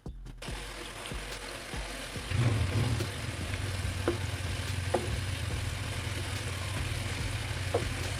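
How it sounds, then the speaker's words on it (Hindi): Potato french fries frying a second time in hot oil to crisp up, a steady low sizzle and bubbling that runs unbroken throughout, with a few faint clicks on top. "जैसे ही ठंडा हो इसे मैं दोबारा फ्राई करूँगी तकरीबन 2 से 3 मिनट के लिए ताकि ये अच्छे से क्रिस्पी बन जाए।"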